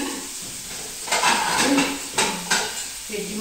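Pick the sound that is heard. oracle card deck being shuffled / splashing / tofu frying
tofu frying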